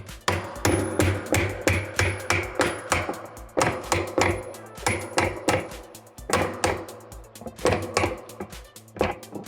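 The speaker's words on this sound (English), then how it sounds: "I like to grab the hammer like this." A hammer repeatedly strikes a spanner tool on the spanner nut of a Maytag MVW top-load washer during teardown. The sharp metallic blows come close and loud in a steady rhythm, about a dozen and a half over the span.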